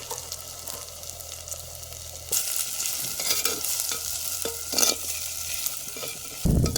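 Onions frying in a pan for a mutton curry, a low sizzle at first that swells louder as a utensil scrapes and stirs through them, with a few clattering knocks near the end.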